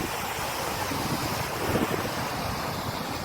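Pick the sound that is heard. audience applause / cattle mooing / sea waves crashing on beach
sea waves crashing on beach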